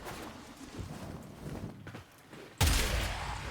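Kuva Hek shotgun from the game Warframe fires one loud, sharp blast near the end, cutting through a lower rumble of game noise and movement.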